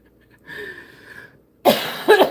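A sick person with a cold coughs twice in quick succession, loud and close, after a brief quieter tonal sound.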